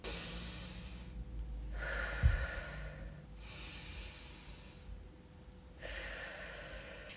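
Slow, deep breathing exercise: long, close inhales and exhales alternate in a steady rhythm, each breath a soft, airy hiss with a brief snort-like catch partway through.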